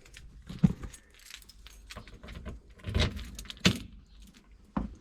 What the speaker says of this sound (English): Need some keys to turn the ignition on.